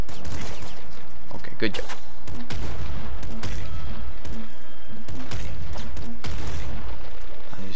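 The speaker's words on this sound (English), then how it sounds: "I'm just shooting this so I can blow everyone up." Rapid bursts of gunfire and explosions from a shotgun and assault rifle in the top-down shooter game Nuclear Throne, clustered volleys loud and close, with brief speech over the shooting.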